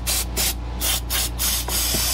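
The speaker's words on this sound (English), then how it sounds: "And of course I'm gonna spray it out" Several short bursts of aerosol cleaner spray hiss in quick succession onto a Yamaha Blaster carburetor part, close and fairly loud, with a steady low hum underneath.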